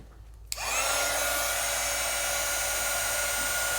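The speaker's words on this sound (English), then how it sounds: "the reason I'm heat embossing is because it makes it so much easier to watercolor" A heat embossing tool switches on and blows hot air over embossing powder on paper, a sudden click followed by a steady, loud hair-dryer-like whoosh and whine held close without talk.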